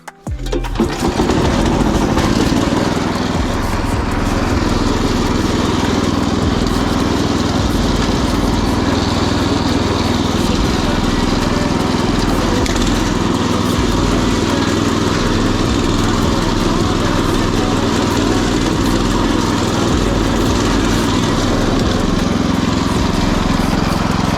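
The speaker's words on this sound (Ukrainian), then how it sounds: "зараз будемо фрезувати це все діло" A small walk-behind tiller engine starts and then runs loud and steady at high revs while tilling tall mustard in a field, droning continuously for the whole stretch.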